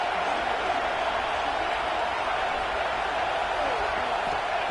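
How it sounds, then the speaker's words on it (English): Steady roar of a packed stadium crowd at a Miami vs Oregon college football game, a dense continuous wash of cheering noise with a commentator's voice over it. "This crowd ready to make its presence known."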